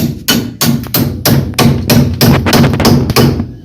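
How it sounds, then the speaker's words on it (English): A hammer strikes a part on a Ford Ranger during a front brake job in a garage, about ten sharp metallic blows in a steady rhythm, loud and close with no talk. "I just take my hammer,"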